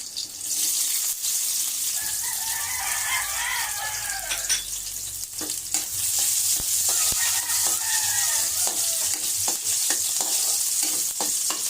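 Sotanghon glass noodles being stir-fried in a pan, a continuous loud sizzle with repeated scrapes and clinks of the utensil against the pan throughout.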